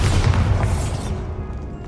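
A Bombarda blasting spell in Hogwarts Legacy detonating as a loud, deep, booming explosion with a heavy low rumble that fades over about two seconds.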